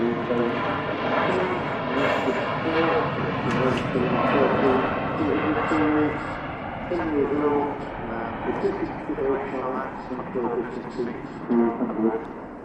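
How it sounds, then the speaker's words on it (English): An Airbus A330 takes off from Manchester Airport, a deep, continuous engine rumble with broad roar that holds steady and fades slightly toward the end, while a person talks over it throughout. "Another very rumbly takeoff there"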